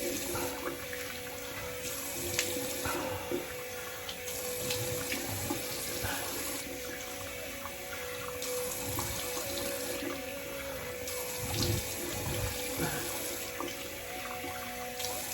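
Tap water runs steadily into a sink during a rinse after a double-edge razor shave, a continuous broadband splashing and gurgling that holds for the whole stretch with small surges and no voices.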